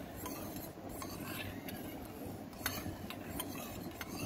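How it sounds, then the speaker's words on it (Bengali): Coconut oil hair mixture stirred in a bowl, a quiet steady scraping and rubbing with occasional light clinks of a utensil against the container. "এবার এটা খুব ভালো করে নাড়িয়ে নিতে হবে।"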